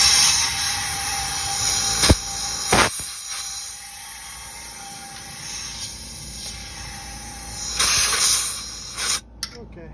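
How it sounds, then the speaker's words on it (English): A compressor hose blows a steady, broadband hiss of air while servicing a Dodge 5500 truck. The hiss runs continuously and close, with a few louder bursts near the start and again near the end before it cuts off. "So I'm going to take my compressor and blow into here."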